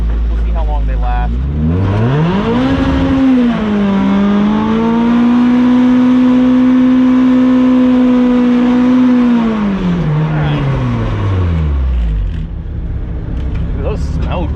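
A supercharged Toyota AE86 with a BEAMS engine, running cheap used tires, revs hard from idle into a long sustained high-rpm burnout and then falls back down. The engine is loud and close throughout.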